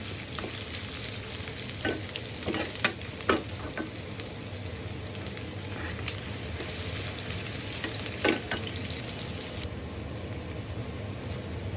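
Steady sizzling of ginger frying in a pan until golden brown, a continuous close crackle with occasional sharper pops and stirring scrapes, no voices.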